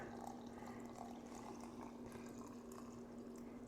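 Water runs steadily into half-gallon jars packed with jalapeño pepper mash for fermented hot sauce, a faint, continuous trickling wash with a low steady hum beneath, no talking.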